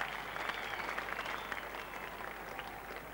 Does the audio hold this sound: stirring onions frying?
no